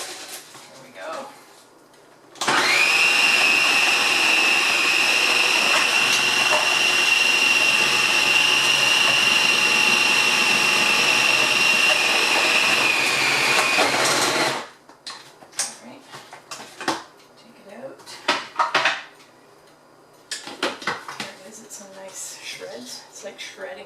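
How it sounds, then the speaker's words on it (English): A food processor fitted with a fine slicing blade shreds collard greens, a loud sustained whirring motor with a high whine running for about twelve seconds, then stopping, followed by quieter clatter and handling noise. "I'm just going to make a bit of noise and let it finely slice the collard"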